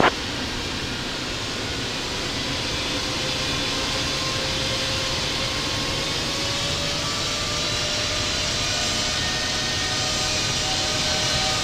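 Jet airliner taxiing toward runway 22 right in the Infinite Flight simulator at New York: a steady, broadband engine roar and whine that holds evenly throughout, with a faint rising tone sliding slowly upward.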